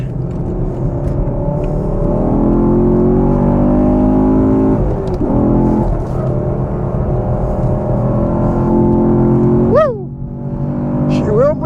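A Ford Mustang Mach 1 on a race track pulls hard in second gear, its engine droning loud and close with a rising whine, then shifting near the end; a voice talks over it.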